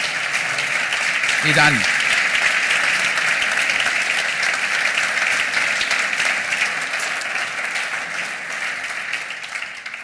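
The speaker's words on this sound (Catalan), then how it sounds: "Jo crec que podem aplaudir una mica més" An audience at a gala honouring Artur Mas applauds, long sustained clapping rolling evenly for many seconds, with a brief voice cutting through near the start.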